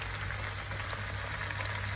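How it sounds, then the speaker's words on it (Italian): A vegetable base sizzles and crackles steadily as it sautés in a pan, a soft continuous frying hiss with no talk over it. "Sentite sfrigolare il fondo?"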